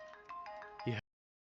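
A telephone rings with a short electronic ringtone, a quick series of tonal chirps that ends abruptly in silence.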